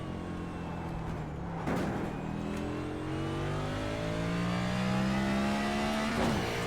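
A heavy NASCAR stock car in the iRacing sim at Autódromo Hermanos Rodríguez, engine droning loud and steady with rising revs through upshifts, a harsh gear-change bark near the start and again near the end.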